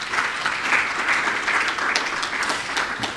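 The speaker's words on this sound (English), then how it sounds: "we want to acknowledge them with a round of applause" An audience at a Ghana event on waste management and sanitation applauds the lead researchers, a steady, moderately loud patter of many hands with a few sharper individual claps standing out.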